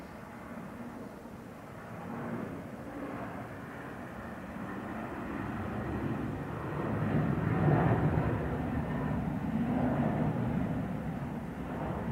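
A jet airliner landing on runway 28 left at Dublin Airport, a steady broad roar that slowly builds, peaks midway and holds without dropping away, heard from a distance with no voices.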